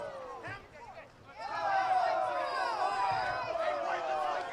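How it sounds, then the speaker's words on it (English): An impatient crowd at a high school lacrosse game between Smithtown East and Half Hollow Hills, with loud overlapping voices, shouts and chatter that swell and stay close after a short quieter stretch. "Crowd in front of us getting a little impatient."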